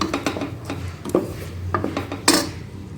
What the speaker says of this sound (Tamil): இப்போ இந்த மசாலாவை நல்லா வதக்கிக்கலாம்.